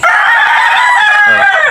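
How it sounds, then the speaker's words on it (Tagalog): A backyard rooster crows loudly and close by in one long, drawn-out call, with a hint of clucking at the end. "Ayan yung mga manok natin"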